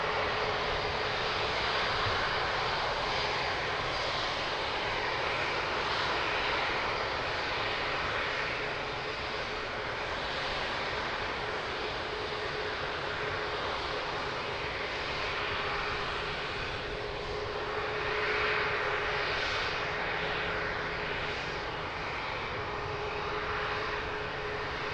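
Airliners take off and land at Lisbon Airport, a continuous broadband jet-engine roar with a faint steady whine, holding fairly even and moderately loud throughout, with no voices.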